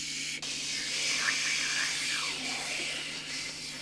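A human voice imitates an old radio being tuned in, a soft breathy hiss with faint whistling tones sliding up and down for a few seconds.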